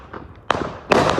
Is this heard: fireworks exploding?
yes